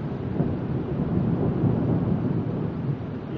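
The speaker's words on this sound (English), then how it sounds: "Yeah, here comes the rain." A thunderstorm rolls on with heavy rain, giving a steady, dense rumble. Low thunder and wind-driven noise fill the sound throughout, close and loud, with no voices.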